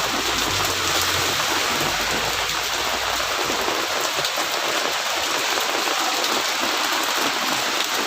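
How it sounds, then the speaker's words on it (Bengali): Heavy rain in Paris, France roars steadily nearby while runoff water rushes and splashes, one unbroken loud wash of sound from start to finish. "কতটা স্পিডে পানি নামতেছে বৃষ্টির পানিগুলো"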